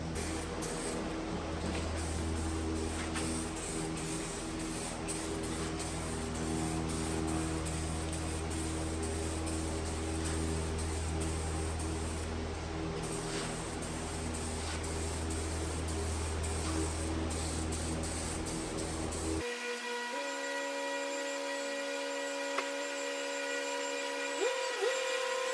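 Paint spray can releasing a continuous hiss, steady and close for most of the stretch before cutting off into a quieter mechanical hum with tonal whines.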